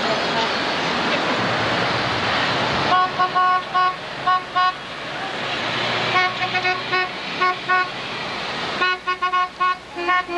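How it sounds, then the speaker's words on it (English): Car horns honking on a street in support of women boxers during a 1987 hunger strike, repeated toots in clusters against loud traffic rush, close and insistent, with a voice speaking among them. "they're honking their horns for women boxers"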